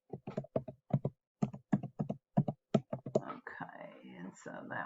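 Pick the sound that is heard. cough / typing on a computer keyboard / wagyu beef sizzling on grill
typing on a computer keyboard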